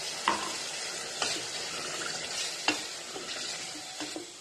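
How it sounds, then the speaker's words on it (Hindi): Water poured into a pan of frying potato and green bean masala, soft sizzling and bubbling throughout with a few sharp stirring clicks and scrapes spaced across the clip, fairly quiet and close. "अब हम इसमें थोड़ा पानी शामिल कर देंगे।"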